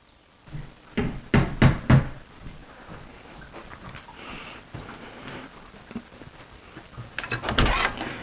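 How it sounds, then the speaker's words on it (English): Several sharp knocks on a door in two quick bursts, close and fairly loud, with lighter tapping and room noise in between and another cluster of knocks at the end. "There's someone knocking on my door."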